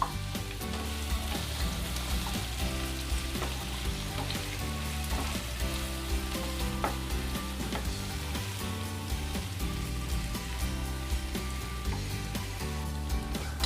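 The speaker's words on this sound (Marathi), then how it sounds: "दम आलू थोडा रेडी आहे आणि त्याच्यात आपण आता चिरलेला कांदा टाकूया।" Chopped onion frying and being stirred into dum aloo in a pan, a loud, steady sizzle running continuously throughout with faint scraping of the stirring beneath it.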